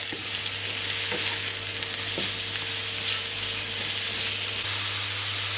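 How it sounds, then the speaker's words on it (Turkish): Mushrooms sautéing in a pan over high heat for risotto, a steady loud sizzle and hiss of frying throughout, with faint stirring scrapes and no talk. "Bunların dış yüzeyleri kızarıncaya kadar hafiften soteleyeceğim öncelikle."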